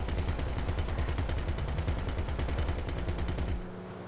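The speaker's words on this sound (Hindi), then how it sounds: "थोड़ा दूर है इसलिए गोलियां नहीं पहुंच रही है" Rapid automatic gunfire from Grand Theft Auto V, with loud, dense bursts of shots firing continuously for about three and a half seconds before cutting off abruptly.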